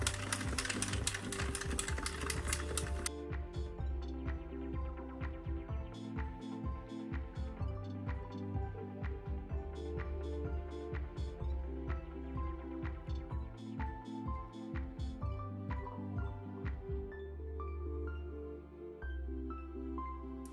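Addi Express King Size knitting machine cranked steadily through rows, a repeated mechanical clacking and ticking in an even rhythm, close and fairly loud, with a brighter rattling burst at the start and no talking.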